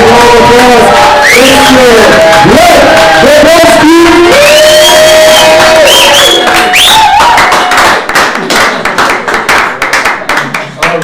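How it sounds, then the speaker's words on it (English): Crowd at a live comedy open mic claps and cheers for an arriving comedian, a loud wash of clapping and whoops that starts under blaring music and continues as the music cuts out. "with a big round of applause"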